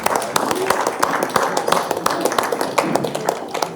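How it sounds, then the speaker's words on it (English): An audience claps for competing teams at an awards event, a dense patter of hands with scattered sharper claps and some voices mixed in throughout. "Let's all applaud the excellent teams"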